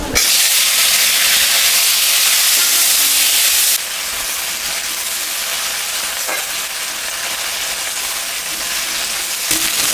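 Curry of fish, raw banana and potato frying in a pan with ginger-chilli paste, a loud continuous close sizzle and hiss that eases slightly partway through, with no talk.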